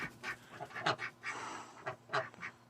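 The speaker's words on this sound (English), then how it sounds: "There's a duck sleeping in the nesting box." Crested duck in a nesting box at a small backyard farm coop, giving several short, soft honking quacks in irregular bursts close by, with a quiet pause between calls.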